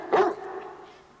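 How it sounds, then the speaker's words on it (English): A pet dog lets out a single short, close bark that trails off into a faint whine against quiet room tone. "Mrs. Golden has threatened to sue me because baby barks when he wants to go out at night."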